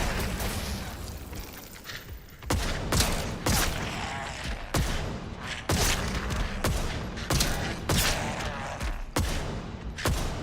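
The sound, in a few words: rifle gunfire in the video game Atomfall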